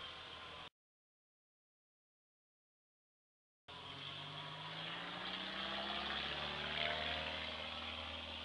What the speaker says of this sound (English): being buzzed by an airplane